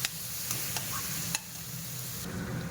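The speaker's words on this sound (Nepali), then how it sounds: "अब अदरक लसुनलाई पनि मजाले फ्राई गर्दैछु।" Ginger and garlic fry with onions in a pan, giving a soft, even sizzle broken by a few sharp scrapes and taps of a stirring utensil.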